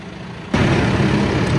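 A tractor engine abruptly fires up and settles into a loud, steady rumbling idle close by, with the initial quiet giving way to a sustained broadband roar.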